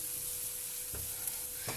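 Finely chopped onion goes into a tablespoon of melted butter in a pan, setting off a soft, fairly quiet sizzle with a couple of faint thuds as the pieces land.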